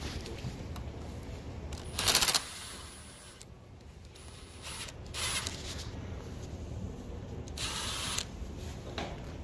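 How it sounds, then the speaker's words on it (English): A ratchet fitted with an E10 socket works the oil pan bolts on a Mercedes 722.9 7G AMG automatic transmission: close, loud bursts of clicking interrupt a steady background hiss. "So we're going to start off by removing the oil pan. We're using an E10."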